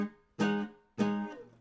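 An electric guitar plays a short blues phrase reaching the higher minor third: two picked notes about half a second apart, each ringing out and fading, played close and alone.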